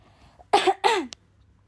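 A pair of quick, close coughs, fairly loud, followed by quiet.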